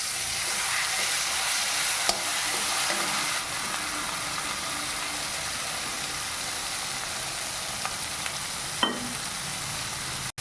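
Pea paste sizzles and fries steadily in hot white oil for mung-pea paneer curry, a loud, even hiss with occasional stirring scrapes and one clunk near the end.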